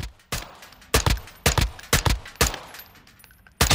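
An MK18 CQBR Mod 1 rifle in Call of Duty Modern Warfare II fires on single fire at a shooting range, giving about seven loud, crisp, separate shots at uneven intervals, each with a short decaying tail.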